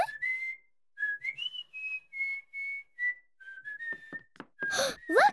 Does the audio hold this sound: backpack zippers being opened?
no